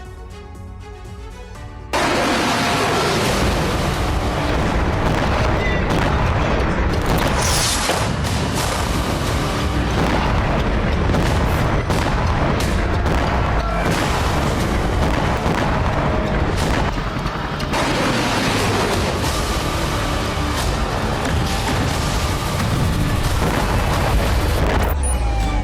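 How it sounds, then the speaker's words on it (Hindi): Dense, continuous barrage of bombing and explosions over a Gaza refugee camp, with loud booms and blasts running back to back for nearly the whole stretch after a brief quiet start, no voices heard. "कहीं एक साथ दर्जनों बम बरस रहे हैं, तो कहीं बैक टू बैक धमाके पूरे इलाके को दहला रहे हैं।"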